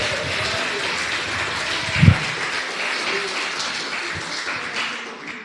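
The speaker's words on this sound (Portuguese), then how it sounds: "Se é para aplaudir, aplaude com força, com fé." A church congregation claps steadily, a broad dense wash of applause with a brief louder thump partway through, and faint voices underneath.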